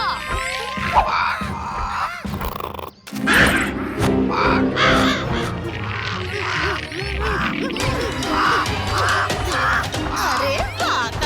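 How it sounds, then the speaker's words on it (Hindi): A cawing crow in a Chhota Bheem cartoon, heard as repeated harsh caws with a vocal quality, set among busy cartoon music and effects that run throughout. "भीम कौवा आपकी खिदमत में हाजिर है काव काव राजा।"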